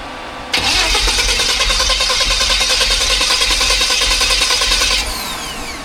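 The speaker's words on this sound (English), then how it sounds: "Crank it again, see if it's got any fuel." A car engine cranks continuously for about four and a half seconds after an engine swap, a loud, steady, rhythmic churning of the starter that never catches, then cuts off into quiet.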